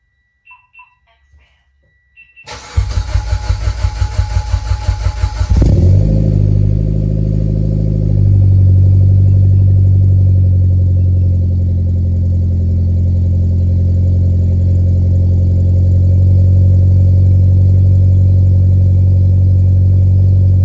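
A Mitsubishi Evo with a freshly installed fuel pump cranks with a rapid starter whir, catches and fires up, then settles into a loud steady close idle with slight engine surges.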